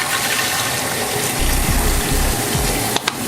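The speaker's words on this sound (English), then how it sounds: "fill my sink with water and some cleaning solution." Warm water runs steadily from a tap into a sink being filled for cleaning Manitowoc Indigo ice machine parts, a loud continuous gush with a brief clatter near the end.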